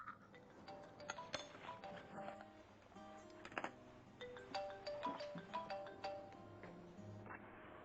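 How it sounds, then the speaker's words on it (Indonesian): A mobile phone ringing with a repeating melodic ringtone, bright tonal chimes sounding in a quick pattern at moderate distance over a quiet indoor background, with occasional light clinks. "Ponsel Anda berdering."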